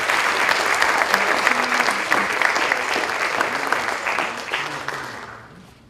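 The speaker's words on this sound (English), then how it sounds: "So let's give those two students a round of applause." Audience applause at a high school band concert, dense steady clapping that fills the hall and then thins and fades out toward the end.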